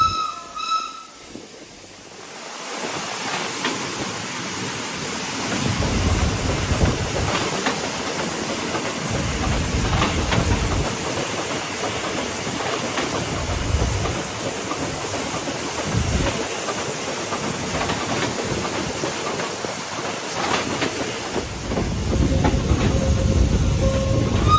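An antique steam train runs on the rails from Hua Lamphong toward Nakhon Pathom in Thailand. A loud, continuous rumble and hiss carries a repeating clickety-clack rhythm of wheels over rail joints, with a steady high whine throughout.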